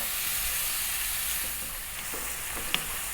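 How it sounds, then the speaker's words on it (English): Prawns sizzle steadily in a hot pan while stir frying, with a few light scrapes and clicks as they are stirred and tossed. "keep it moving, stir frying away."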